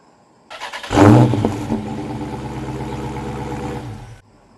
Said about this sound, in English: I bet now if I hit the remote start, you should actually hear the car start.